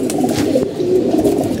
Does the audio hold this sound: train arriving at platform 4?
no